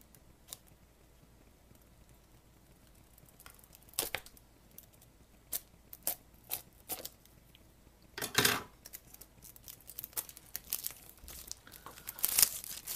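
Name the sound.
unwrapping package and peeling stickers off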